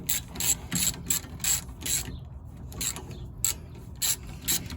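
A hand ratchet working a front subframe bolt on a Toyota AE86, close and loud, with a rhythmic series of rasping clicks in regular strokes and short pauses between swings.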